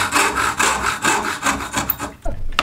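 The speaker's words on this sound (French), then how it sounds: "je vais faire quelques traits de scie" A hand saw rasps through dense, knotty wood in steady back-and-forth strokes, about a stroke every half second, close and loud, pausing briefly near the end.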